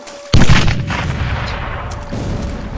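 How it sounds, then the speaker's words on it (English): A sharp mortar blast in a World War I battle scene from 1916 hits suddenly, then a lingering rumble of distant artillery rolls on underneath for several seconds. "Mortars are flying overhead."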